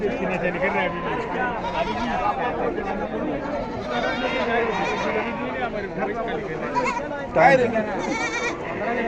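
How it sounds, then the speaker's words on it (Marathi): Goats bleat amid the crowded chatter of a rural goat market in Saykheda, Maharashtra, with a louder nearby bleat rising above the constant babble of buyers and sellers talking. "हा शेळी का?"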